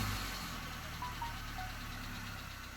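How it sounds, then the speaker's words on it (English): A car engine idles steadily after being started remotely, a low continuous rumble with faint vibration and no voices over it. "Okay, I will start the engine."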